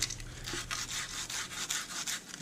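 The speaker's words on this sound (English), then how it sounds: "So you'll get your sandpaper, wrap it around," Sandpaper wrapped around a golf wedge and rubbed by hand, a quiet, close scratchy rasp in short repeated strokes with a steady back-and-forth rhythm, no talk.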